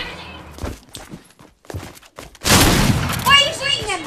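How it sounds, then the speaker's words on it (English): Gunfire from the video game Fortnite bursts loudly amid other game sounds. Bits of voice come before it. "Why are you shooting him?"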